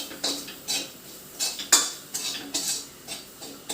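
A metal spatula scrapes and clinks rhythmically against a pan while crab masala is stirred and sautéed, roughly a dozen close, sharp strokes with only a faint sizzle underneath.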